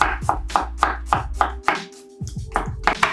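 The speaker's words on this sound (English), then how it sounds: "Get 1 small onion, chop it in half, peel the outer skin and slice it up." A knife slicing a small peeled onion on a cutting board, with about a dozen crisp, close chops in a quick, even rhythm broken by one short pause; no talking.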